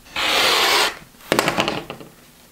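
Scissors slice through a fabric strip for neckline cording: one long steady rasping cut, then a series of short snipping and rustling sounds, close and alone.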